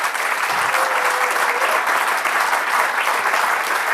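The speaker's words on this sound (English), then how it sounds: "please a warm applause for these fantastic speakers here" A seated audience applauds speakers after an architecture talk, dense even clapping that stays loud and steady throughout, with no voices on top.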